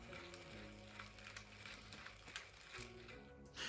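A fishing reel is cranked in short bursts. Close, faint ratcheting clicks and a gear whir come in steady runs with brief pauses.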